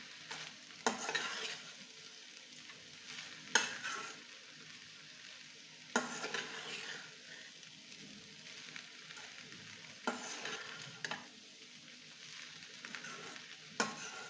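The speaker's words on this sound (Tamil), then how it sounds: "மெதுவாக கிளறுங்க. ரொம்ப கிளறினீங்கன்னா அவல் கொதறிடும்." Flattened rice poha with vegetables stirred gently in a hot pan: soft sizzling with a spatula scraping and shuffling at irregular intervals, close and quiet, without talk.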